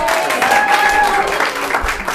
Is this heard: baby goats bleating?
no